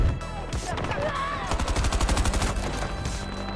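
Turret gunfire in the Battlefield 2042 video game, a rapid burst of heavy automatic shots with a dense, rhythmic pounding that rattles on for several seconds, mixed with battle noise.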